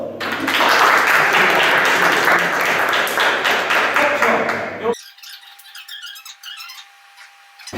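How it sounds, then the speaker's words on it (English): Seminar audience applauding a coaching speaker's point, a full burst of clapping lasting several seconds before cutting off abruptly into quieter, thinner sounds. "Worth a round of applause?"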